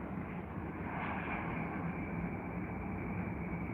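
Virgin Atlantic Boeing 787 Dreamliner at Heathrow, a steady, loud jet roar filling the whole clip with no letup, close and continuous, with no voices.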